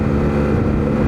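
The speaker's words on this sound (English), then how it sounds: "if you just pin the throttle, this is still in touring mode, she takes off." A Yamaha Tmax 560 scooter accelerates at full throttle in touring mode, giving a brief, loud, continuous engine roar with wind noise, heard close.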